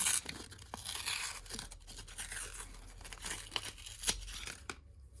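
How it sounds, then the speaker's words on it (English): A paper cup is peeled off a mold with a steady run of close tearing and crinkling paper sounds, punctuated by a few sharper rips, with no one speaking. "we just got to peel the paper cup off"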